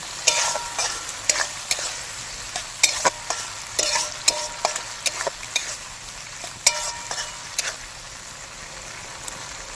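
Village-style fried rice and chili chicken being stir-fried in a pan with tomato and soy sauce: a steady sizzle runs under repeated sharp scrapes and clanks of a spatula, irregular and close, with no speech.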